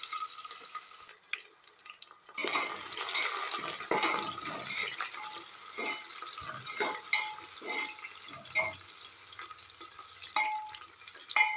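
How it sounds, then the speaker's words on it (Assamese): Onions fry in oil with bay leaf in a pressure cooker, with a soft sizzle broken by intermittent stirring and scraping. "পিঁয়াজখিনি ভালকৈ ভাজি হ'ল।"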